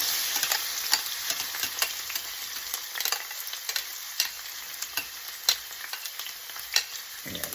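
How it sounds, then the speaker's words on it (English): Fajita vegetables hit hot, shimmering canola oil in a skillet over medium heat, producing a continuous bright sizzle with repeated sharp clatters of stirring and tossing, close and unaccompanied by talk. "We're going to start with some canola oil in a skillet over medium heat, and when that gets a little hotter, we're going to throw in our veggies"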